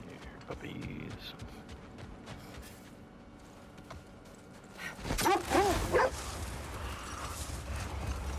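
Wolf pups in God of War Ragnarök bark and yip in short bursts, quiet at first and then a louder cluster of excited barks late in the clip, with game ambience and some talk underneath.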